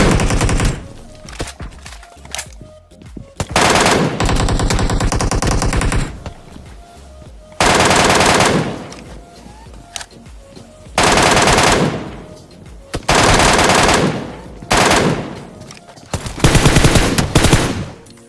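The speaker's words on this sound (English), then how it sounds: "You can literally wipe out the squads with this gun, but this weapon has the highest damage in any fully automatic weapon" A fully automatic gun in PUBG Mobile fires in loud, rapid bursts several seconds long, separated by short pauses with quieter background sound.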